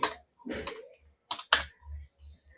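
Quick bursts of keystrokes on a computer keyboard, close and crisp, in short irregular clusters separated by brief pauses.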